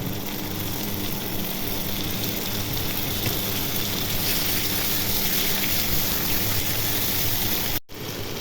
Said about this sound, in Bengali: এখন আদা রসুন ভেজে নিব